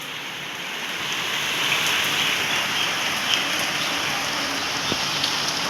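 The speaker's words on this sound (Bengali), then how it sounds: "আর বৃষ্টি শুরু হয়ে গেছে।" Heavy rain pours onto a window ledge and tree leaves, a dense, steady hiss close by with faint scattered drips and taps throughout.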